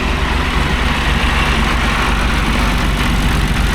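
A John Deere 350C dozer engine, just back from fuel system repair on its injectors and injection pump, idles steadily and loudly up close with an even, unbroken diesel rumble.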